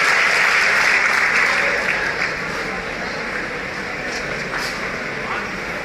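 A seated audience at a gathering claps for a speaker called to the stage, a steady, loud wash of applause that eases slightly after two seconds and carries on evenly.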